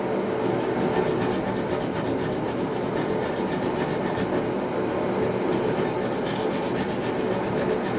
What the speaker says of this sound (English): this is why we use the wire brush, because sometimes there's so much corrosion in it